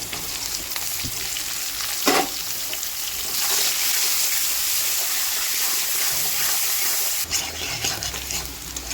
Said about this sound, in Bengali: এবার এটাকে আমি খুব ভালো করে একটু ভেজে নেব আলুটাকে